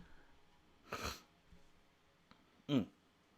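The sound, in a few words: sniffling nose after a bloody nose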